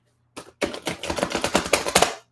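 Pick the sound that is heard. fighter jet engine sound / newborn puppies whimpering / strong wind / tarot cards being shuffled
tarot cards being shuffled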